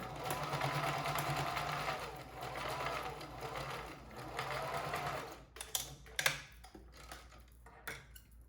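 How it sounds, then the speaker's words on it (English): A sewing machine stitches a fabric face mask, first running in one quiet, continuous whir, then breaking into short stop-start bursts near the end. "So fold this piece over, then you're going to sew."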